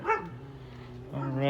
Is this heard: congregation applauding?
no